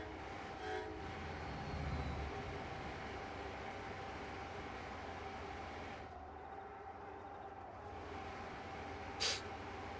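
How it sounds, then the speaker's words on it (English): In the Rail Sim Universe game, a train rolls past with a continuous rumbling wash of rail noise, plus a faint tonal hint and one brief sharp click near the end. "we got a train coming"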